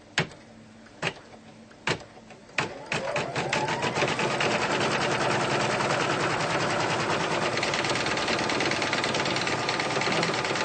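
Sewing machine running a tack-down stitch through Warm and Natural cotton batting, a few isolated clunks first, then a fast steady mechanical chatter that continues to the end, close and moderately loud.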